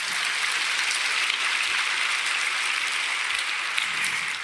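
A church congregation applauds during a sermon, steady dense clapping that fills the space at an even level throughout, with no voices heard.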